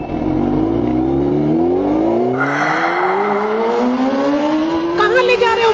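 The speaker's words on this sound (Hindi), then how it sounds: "मैं होंडा निकाल कर लाता हूँ" A Honda motorbike engine runs and revs steadily, its pitch climbing gradually as it pulls away, loud and close throughout with no speech over it.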